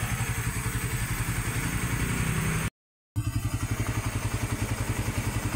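A Suzuki Raider 150 Fi motorcycle idles close by with an even, rapid pulsing thump, steady apart from a short gap of silence midway.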